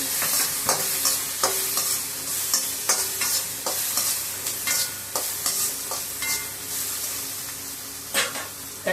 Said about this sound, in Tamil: இந்த முருங்கைக்காய் பச்சை பட்டாணி நல்லா வதக்கி